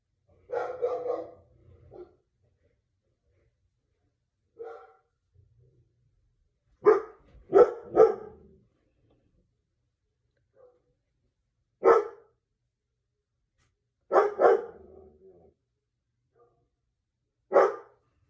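Dogs bark indoors in short separate bursts, single and double woofs spaced by silence, moderately close.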